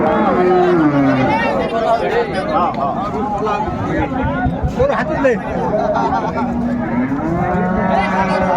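Dairy cows and calves mooing at a crowded rural cattle market, several long low calls close by, mixed with steady crowd babble and people bargaining in conversation.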